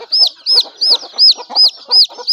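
Village-bred native chickens and their chicks cluck and peep in a steady repeating rhythm, with high chirps over lower clucks, close by and clear with no talking.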